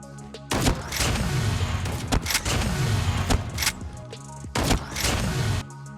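Shotgun blasts in a video game: a series of loud, booming shots arrive about once a second, each with a heavy low thump and decaying tail, close and dominant with game sounds between.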